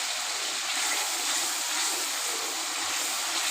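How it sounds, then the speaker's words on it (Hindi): Water poured a little at a time into sizzling masala for saag, a steady broad hiss and bubbling sizzle throughout, close and even. "थोड़ा थोड़ा पानी डाल के हम इसे"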